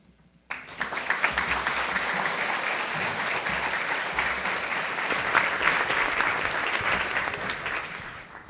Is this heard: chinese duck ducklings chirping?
no